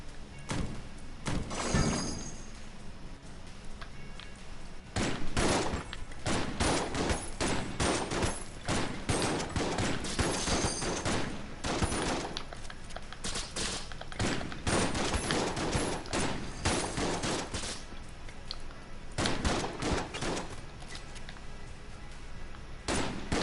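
Gunfire in Enter the Gungeon, dense rapid bursts of shots with impacts and breaking sounds, continuing almost without pause, with no one talking.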